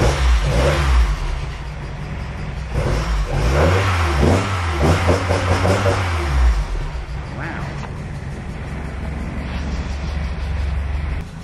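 A VW Mk1 Golf fitted with a new stainless steel exhaust system cranks and revs loudly nearby, the engine note climbing and falling in several surges before settling into a steady idle.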